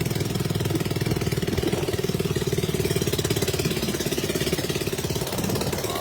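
A loud boat engine chugs steadily and continuously up close, a rapid even mechanical throb with no voices.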